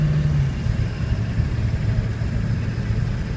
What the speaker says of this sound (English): Engine is strong.